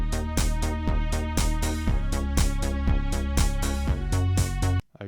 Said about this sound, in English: This is where the clap is, so we're just going to add that on top of every snare drum.